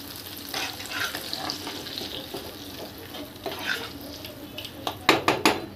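Fish roe with turmeric and salt frying under a lid in a pan, a low steady sizzle with occasional clinks and stirring clatter, ending in a few louder sharp knocks near the close.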